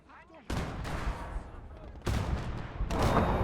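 Tank cannon fire in the Conquest of Normandy video game: three loud, heavy blasts at roughly one-second gaps, each with a long rumbling tail that layers over the last.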